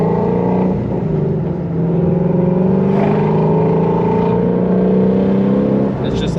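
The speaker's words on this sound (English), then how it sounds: "We're just going to short shift. The sound of the GT350 is good." A Ford GT350R engine pulls hard as it accelerates, rising steadily in pitch with a brief drop at each short shift, loud and close throughout, with no talking.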